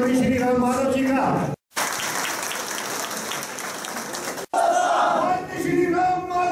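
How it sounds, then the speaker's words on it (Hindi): A crowd at a BJP party workers' meeting in Ramban applauds and cheers loudly to welcome Ram Madhav, a dense burst of clapping and shouting between stretches of amplified announcing voice that frames it. "जोरदार तालियों के साथ स्वागत करें भगवान श्री राम माधव जी का।"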